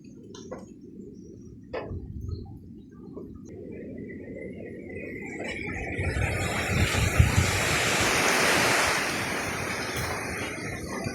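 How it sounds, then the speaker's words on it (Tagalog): Steady typhoon wind rushing outdoors, building from a light breeze to a stronger broad roar with gusty rumble against the microphone; no talking. "Humahangin ulit."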